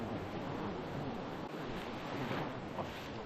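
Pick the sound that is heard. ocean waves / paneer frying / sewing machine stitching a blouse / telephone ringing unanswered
ocean waves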